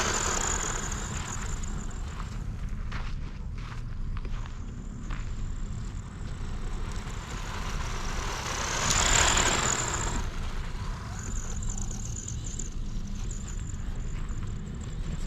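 A Tamiya BBX RC car with an upgraded motor and grippy tires drives quickly outdoors, its steady whirring motor and the rolling of its wheels heard continuously, with a louder surge as it passes close around the middle.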